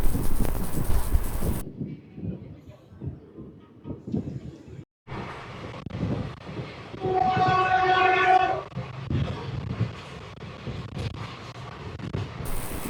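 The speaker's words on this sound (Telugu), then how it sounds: "ఇది నాగర్ఫోల్ సూపర్ ఫాస్ట్ ఎక్స్ప్రెస్" The Nagarsol Superfast Express rolls along with a steady rumble and clatter of coaches between stations. The noise swells mid-run with a brief tonal wail, likely a horn, then settles back into the travelling drone.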